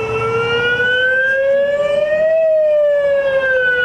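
An alarm siren wails during an evacuation drill at a shopping centre, a loud, steady tone that slowly rises and then falls, with a low background hum and no talking.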